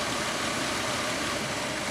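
A car engine that is running badly idles roughly, giving a loud, steady, close rumble with an uneven texture throughout and no voices.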